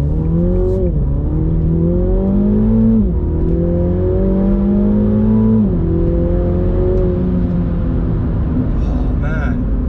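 MINI GP3 hatchback driven hard, its engine revving up through the gears in repeated surges with brief dips at each shift, loud and close throughout with steady road rumble underneath.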